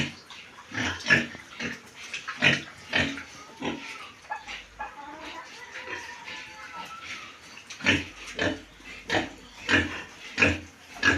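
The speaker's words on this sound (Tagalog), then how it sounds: "2 buwang alaga ko po ang mga baboy na iyan." Pigs grunt repeatedly in short, irregular bursts nearby, with quieter stretches in between and faint background noise.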